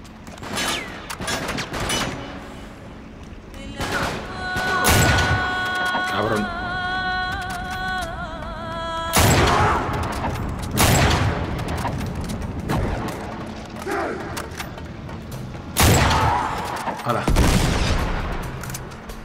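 Repeated bursts of rapid gunfire and explosions from Uncharted 3 on PS5, loud and close, with electronic tones in between and some talk underneath.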